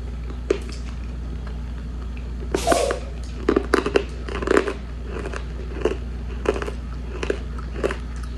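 Crisp crunching bites of freeze-dried Starburst candy, close to the microphone, in irregular bursts with quiet pauses between chews.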